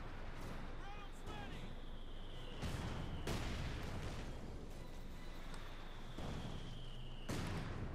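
Mortar fire in Company of Heroes 2, several heavy booming impacts spaced a second or two apart over continuous battlefield rumble, fairly faint with whistling rounds between blasts.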